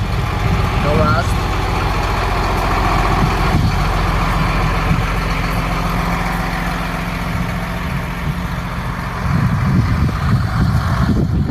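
A 2016 Hino dump truck with a Hino engine and LC transmission idles nearby, its low, even diesel rumble steady throughout, with a brief mechanical clank early on and rising engine noise near the end.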